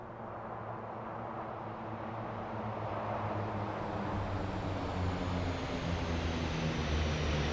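A propeller-driven PC-7 trainer drones in a flight simulator game as it rolls through a smear turn in an air show display, a steady broad engine hum that swells slightly over time with no voices.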